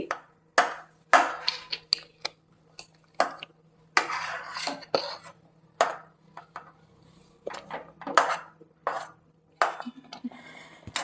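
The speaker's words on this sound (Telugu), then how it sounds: "ఈ బార్లీని మనం పట్టుకున్నాం కదా, ఇది నేను పాలల్లో వేసి కలుపుతున్నాను." Barley is stirred into milk in a pot while cooking talbina; a spoon scrapes and clinks against the pot in irregular, sharp strokes, fairly close, over a low steady hum.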